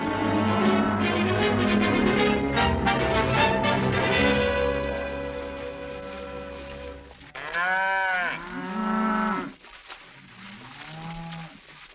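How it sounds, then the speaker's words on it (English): A cattle herd on an open frontier range: a dense mix of lowing and bellowing cows at first, then several long, loud, drawn-out moos from nearby animals, with no one speaking. "Doggone it, Hoppy, we found the herd."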